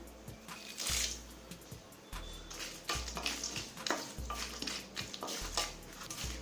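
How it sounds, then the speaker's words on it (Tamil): Peanuts roast in sesame oil in a kadai alongside curry leaves and dried chillies, giving a soft sizzle under regular scraping and stirring clinks of a spatula against the pan, close and fairly quiet. "வேர்க்கடலை நல்ல கலர் மாற வரைக்கும் வறுத்துக்கலாங்க"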